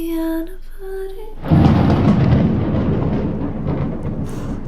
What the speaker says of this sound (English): It's thundering.